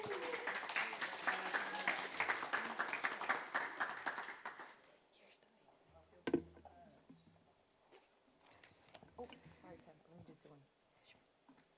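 An audience at an intern final presentation event breaks into a round of applause, dense clapping for about four seconds that then fades into scattered claps, shuffling and murmured room noise.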